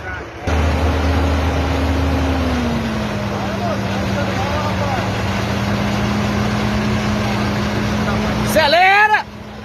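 Heavy truck engine, Volvo or Scania, droning steadily close by with a low sustained hum that shifts as it accelerates, voices calling out over it and a brief harsher burst near the end.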